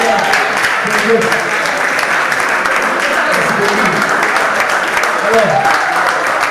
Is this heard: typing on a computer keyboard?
no